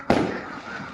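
A single sharp Fourth of July firework bang, close and loud, followed by a short fading rumble.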